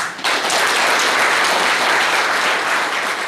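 A large audience at a political rally breaks into loud, sustained applause, a dense wash of clapping that starts abruptly and holds strong without pause.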